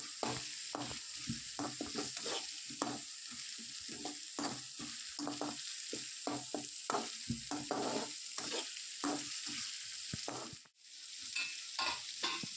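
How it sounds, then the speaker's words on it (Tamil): Tomato, green chilli and ginger garlic paste fry in a pan under constant stirring, a busy run of scraping and clattering strokes over a continuous sizzle, close up, with one brief pause near the end and no voices. "இப்போ இது எல்லாத்தையுமே நல்லா மிக்ஸ் பண்ணிக்கலாம்."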